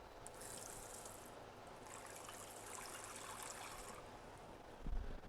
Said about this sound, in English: grab yourself some cold water